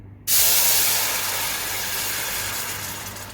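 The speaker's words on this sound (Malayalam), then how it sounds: "ഇനി ഇതിൻ്റെ അകത്തേക്ക് നമ്മൾ ഉരുക്കി വെച്ചേക്കുന്ന ശർക്കര ഒഴിച്ചു കൊടുക്കുക" Melted jaggery hits a hot pan of ghee for ada pradhaman, bursting into a loud, sudden hiss that settles into a steady sizzle and fades slightly over the following seconds.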